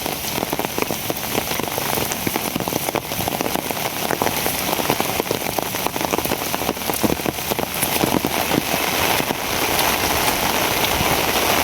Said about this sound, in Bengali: মা বৃষ্টি তো বাড়তাছে রে